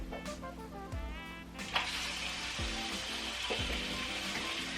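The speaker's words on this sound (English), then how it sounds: "All right, it's sizzling away." Chicken thighs sizzle steadily in a hot pan, a broad hissing crackle that fills the clip, with a few clinks and scrapes of utensils.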